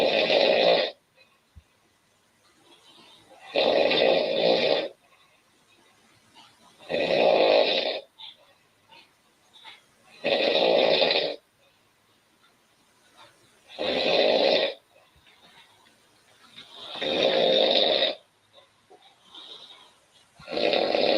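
A woman snoring in her sleep, loud rasping breaths coming in regular bursts roughly every three to four seconds, with quiet gaps in between.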